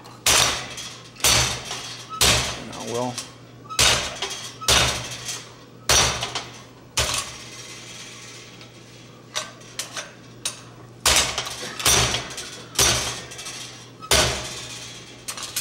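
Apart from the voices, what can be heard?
treadle hammer striking metal at a smithing demonstration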